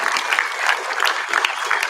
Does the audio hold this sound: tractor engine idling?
no